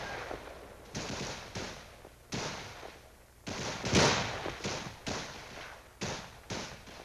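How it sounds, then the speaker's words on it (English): Soldiers' rifles fire on an infantry training range, a series of sharp reports, some single and some in quick pairs, fairly distant and muffled over a steady background hiss. "The trainee next goes on to record firing."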